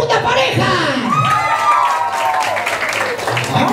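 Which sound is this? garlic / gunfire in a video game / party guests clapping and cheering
party guests clapping and cheering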